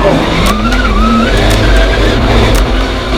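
Race cars including a Holden Monaro HQ and a Mazda RX-7 dice on a circuit at a motorsport festival, engines roaring loud and close with tire squeal and skidding.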